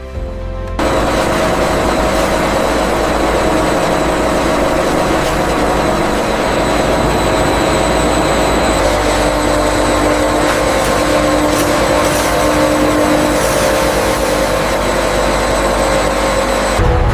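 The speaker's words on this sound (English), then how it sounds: "As the machine reaches full speed, the intense centrifugal force drives the heavier solids outward, allowing the golden oil to migrate toward the center" A decanter centrifuge extracting avocado oil in a factory drones loudly and steadily, a dense mechanical roar with a sustained whine and faint rattling layered on top, close and continuous from the first second on.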